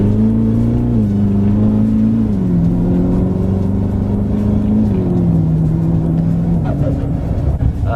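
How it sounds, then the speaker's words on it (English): Heavily modified Duramax diesel truck with a Bullseye 74mm turbo and upgraded injectors, heard from inside the cab as it revs: a loud, steady low drone that rises and dips across several throttle pulls, continuous throughout. "Just taking a few rips with the Duramax"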